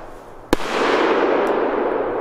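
A 30mm firecracker salute goes off outdoors, giving one sharp, loud bang followed by a long rumbling echo that rolls on and slowly fades, with no voices heard.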